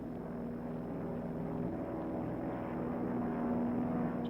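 Propeller planes of the U.S. 10th Air Force drone overhead during a bombing raid on Lashio, Burma, a continuous distant engine hum that stays steady and fairly faint throughout.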